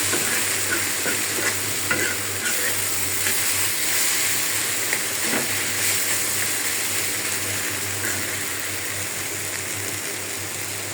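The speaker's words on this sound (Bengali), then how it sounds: "মাছ নামায় আমি শাক বাগার বসাই দিলাম" Kalmi shak (water spinach) is stir-fried in a pan with a steady, fairly loud sizzle that runs the whole time, with scattered stirring scrapes and no talk.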